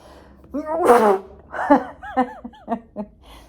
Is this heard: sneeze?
yes